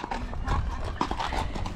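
A horse's hooves clip-clop at a steady walking pace on the trail in the rain, close and fairly quiet, with no voices over them.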